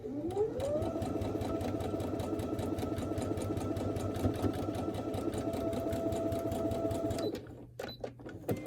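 A sewing machine runs steadily for about seven seconds with a fast, even mechanical whir, then stops, followed by a few faint clicks and handling noises.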